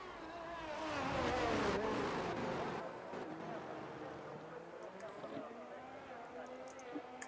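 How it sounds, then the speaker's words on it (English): A race car engine in a racing video game at Monza rises and falls as the car accelerates through the gears, loud at first and then settling into a steady drone, with a commentator talking over it. "Accelerating out there on a hot lap here now"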